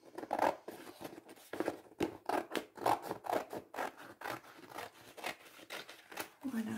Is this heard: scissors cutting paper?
yes